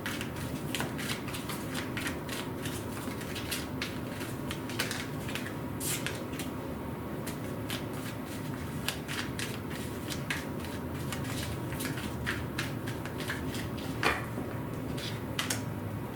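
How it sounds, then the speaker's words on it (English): Tarot cards are shuffled by hand in a quiet room, with repeated rapid riffling and soft snapping bursts close by throughout. "What's this Emperor card for Sag?"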